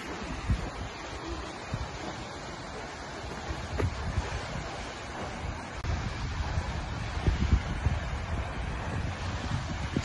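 Seljalandsfoss waterfall in Iceland sends down a steady, broadband roar of rushing water, loud and continuous throughout, with some wind buffeting the microphone and no speech.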